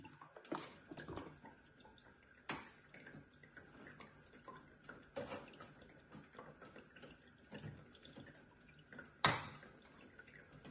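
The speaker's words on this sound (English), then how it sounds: "Water is filled. When fireplace up to highest liquid level, that it will have voice remind and stop feed." Water trickles and drips quietly as it fills the tank of a water vapor fireplace, with a few sharp clicks and knocks scattered through the steady faint flow.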